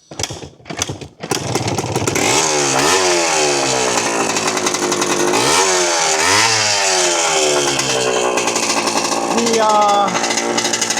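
Yamaha IT 250 barn-find dirt bike being kick-started with the choke on, a few thumps and then the engine catches and runs loud and rough, revving up and down several times.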